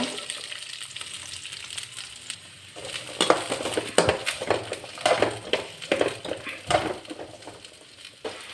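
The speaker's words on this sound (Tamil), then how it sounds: "கடாயில் மறுபடியும் கொஞ்சமாக எண்ணெய் சேர்த்திடலாங்க நம்ம சின்ன வெங்காயத்தை இதோட சேர்த்து வதக்கி எடுத்துக்கலாங்க" Small onions sautéing in oil in a kadai for mutton curry, a soft sizzle that turns into bursts of stirring, scraping and crackling about halfway through.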